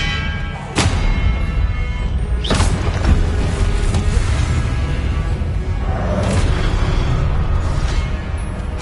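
Repeated spell blasts and explosions from the video game Hogwarts Legacy, with sharp whooshing bursts and booming impacts around one, two-and-a-half and six seconds over a steady loud rumble of combat effects.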